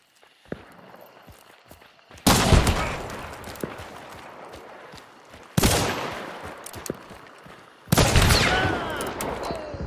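Explosive rounds fired in a shooter video game: three sharp, loud blasts spaced a few seconds apart, each followed by a long rumbling decay, with faint footsteps and scattered clicks in the quieter stretches between.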